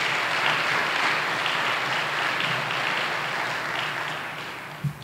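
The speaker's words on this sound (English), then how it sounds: "So let's give them a round of applause as well." Steady audience applause fills a university event for a women's basketball team, a dense wash of clapping that holds evenly and slowly thins toward the end.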